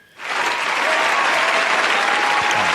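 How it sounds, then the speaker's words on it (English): A crowd breaks into loud, sustained applause, a dense wash of clapping that starts suddenly and holds steady. "Round of applause."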